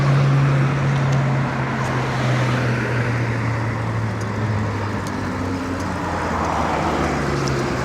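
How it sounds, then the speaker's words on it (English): Road traffic near the Wynn Resort, cars passing with a continuous broad roar and low engine drone that swells and fades gently, steady and moderately loud, with no talking. "Wait for some of these cars to go by before I get on back on out here."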